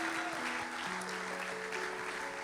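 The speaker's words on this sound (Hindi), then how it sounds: "जोरदार तालियां यीशु मसीह।" Applause from a congregation during a Sunday sermon and worship service, a steady wash of clapping under sustained musical tones, moderately loud throughout.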